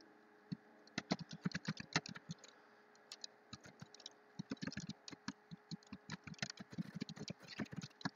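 Keys clatter on a laptop keyboard in quick, uneven bursts of close, crisp taps with short pauses between runs, quiet and alone.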